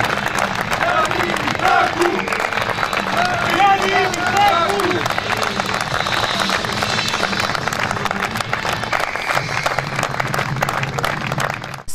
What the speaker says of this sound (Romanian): să-l aplaude.